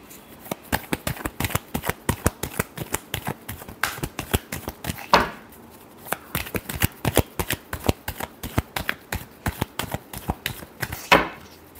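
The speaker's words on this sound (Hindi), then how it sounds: "कभी कभार शफल करते वक्त कार्ड्स हम इधर उधर कर।" Tarot cards are shuffled by hand in quick repeated riffling slaps, a close, crisp, steady rhythm across the whole stretch with a couple of louder snaps and no voices.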